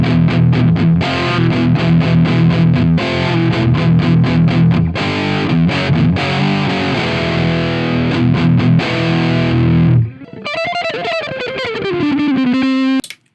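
Electric guitar through a Softube Marshall amp plugin with the treble turned high, loud crunchy distorted chugging and strummed chords, then a sustained lead phrase with a bent note near the end.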